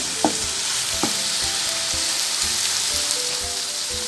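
Ingredients for a chicken lasagna filling fry in a pan with a steady, close hiss of sizzling oil, broken by a few soft clicks of a spoon stirring. No one speaks.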